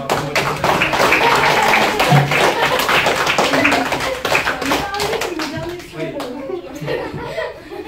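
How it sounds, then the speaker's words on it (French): Applause at a school gathering: a crowd claps steadily and loudly for several seconds while voices and laughter mix in underneath. "on va l'applaudir"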